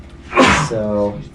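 A single sharp sneeze bursts out close by, followed by a brief voiced tail, with a short spoken word just before it.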